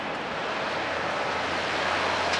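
Steady jet roar from a passenger aircraft on the Fukuoka Airport runway, a broad continuous rush that swells slightly toward the end, heard alone without voices.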